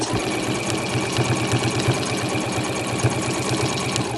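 Sewing machine with a normal presser foot stitching pom-pom trim onto a cushion cover, a close, steady rapid mechanical chatter running throughout.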